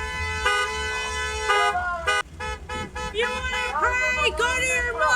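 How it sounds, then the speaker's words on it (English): Car horns from passing vehicles honk repeatedly near a roadside gathering of people praying, sounding as a mix of long sustained blasts and shorter toots with varied pitches, loud and close, with voices faintly underneath. "all these people driving by are just honking to essentially disrupt the praying"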